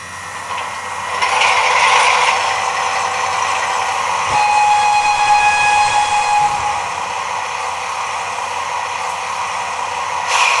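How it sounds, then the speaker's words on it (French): A ROCO model locomotive's pair of large loudspeakers reproduces the powerful sound of the full-size original: a steady hissing roar carrying sustained whistle-like tones. The sound swells early, holds, then eases slightly, with no talking. "chaque moitié de locomotive est en outre équipée de deux grands haut-parleurs, reproduisant parfaitement sur les rails du modèle réduit le son puissant de l'original"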